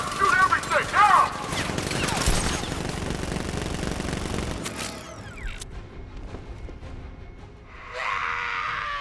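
Gunfire from the Joker's militia in Batman Arkham Knight breaks out as a dense, loud volley of shots with clattering mechanical noise, fading into a quieter stretch before a hissing burst near the end.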